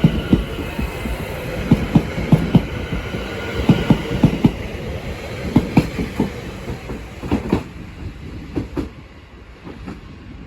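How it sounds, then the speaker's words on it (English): A London Overground train pulls out of Bethnal Green station, with rhythmic clickety-clack wheel beats over rail joints repeating through a steady rumble and thinning toward the end. "Now departing is the 11:33 London Overground service from London Liverpool Street to Enfield Town."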